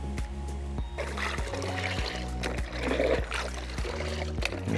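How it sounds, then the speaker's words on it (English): A measuring jug is rinsed in a bucket of water, giving repeated sloshing and trickling splashes at close range over a low droning hum. "just rinsing out the jug in the bucket is really helpful as well"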